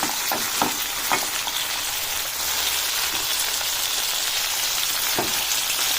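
Tomatoes for mint chutney cook in a pan with a steady, close sizzle and crackle, broken by a few soft stirring clicks.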